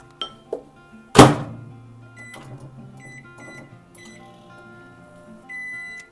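A microwave oven softening butter: a door thunks shut, buttons beep, and the oven starts its low running hum, all close and fairly quiet in a kitchen.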